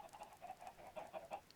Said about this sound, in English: That is a lot of chickens.